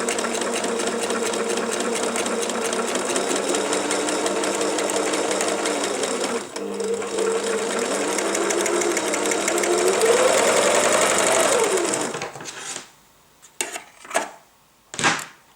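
A sewing machine stitches fabric in a long, continuous loud run for about twelve seconds, its pitch shifting as the speed changes, then stops and gives a few short separate bursts.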